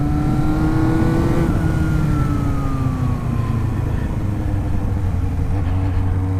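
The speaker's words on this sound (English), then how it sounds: "it's funny riding a bike that revs so hard" A Suzuki Bandit 250 motorcycle engine strains at high revs, a loud, whining drone that holds steady and then slides gradually lower.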